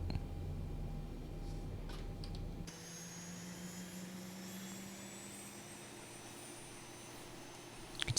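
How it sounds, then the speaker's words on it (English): A Boeing 737 engine spools up in the X-Plane 11 flight simulator: a low hum gives way to a rising turbine whine and steady roar, heard fairly quietly with no talking. "You can see that engine starting up."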